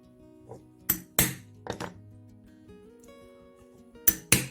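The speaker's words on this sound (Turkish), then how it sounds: "en son deldiğim deliğin içine çivimin ucunu soktum ve vurdum" Sharp metallic taps and thunks of a hammer driving a nail to punch holes in paracord material, in small clusters, a few strikes spaced over several seconds against a quiet room.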